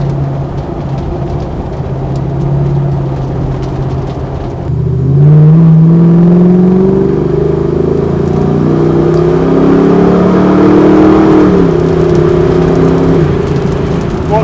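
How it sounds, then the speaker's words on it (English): A Land Rover Defender 110 with a swapped Chevy LS3 Corvette V8 pulls hard, its deep engine note rising through the gears with a rougher surge partway, loud and close from inside, with canvas rattle in the background. "What's not to love about that Corvette engine?"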